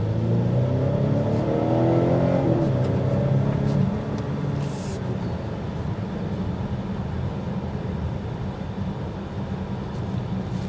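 A 2023 Volvo V90 Cross Country accelerating, heard from inside as a steady engine and road rumble that swells early, then settles into a lower, even drone.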